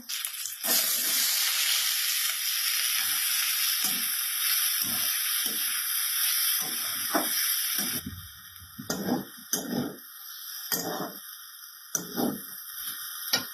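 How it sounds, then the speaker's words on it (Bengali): A pan of potato curry with onion tempering hisses and sizzles loudly and continuously at first, then settles into softer, intermittent sizzling bursts. "মা বসিয়ে দিয়েছে তরকারি, পেঁয়াজ ফোড়ন দিয়ে দিয়েছে"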